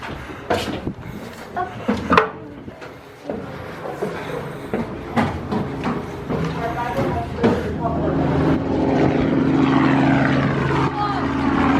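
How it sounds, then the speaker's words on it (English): Helicopters running at a naval museum, a steady engine and rotor drone building and holding loudly through the second half, with clattering bumps, footsteps and people talking nearby. "So it looks like they're operating the helicopters today."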